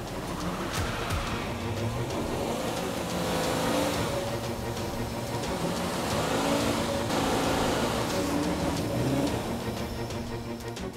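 A car holds a long burnout on rubber playground tile, its engine droning and revving continuously with churning tire noise, loud and close throughout.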